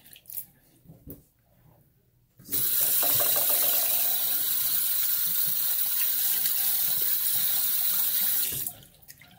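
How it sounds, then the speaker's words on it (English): Cold tap water pours loudly and steadily into a shaving brush for about six seconds, with quiet room tone before the flow starts and after it stops. "Putting some cold water into my brush"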